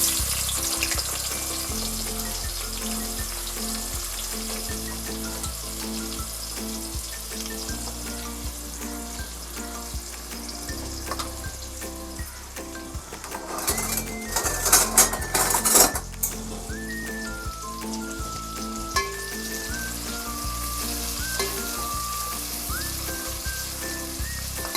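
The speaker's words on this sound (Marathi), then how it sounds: "तेल तापत ठेवलंय. आता त्याच्यामध्ये कांदा टाकते." Onion sizzling in hot oil in a home kitchen while chicken poha bhujing is prepared, a steady bright frying hiss with clinks of a utensil against the pan throughout, no voices.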